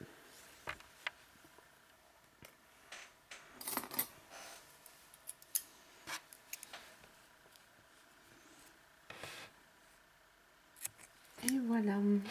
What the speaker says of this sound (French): j'étire tout ça et je vais pouvoir couper.